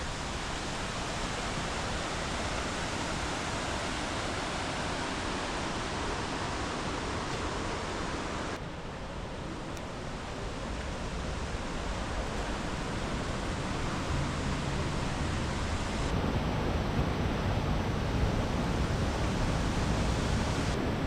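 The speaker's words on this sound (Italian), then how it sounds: "Il fiume è sotto." A river rushes below the mountain village of Ferrera Moncenisio in a steady, unbroken roar of flowing water, loud and constant, with a slight shift in level partway through.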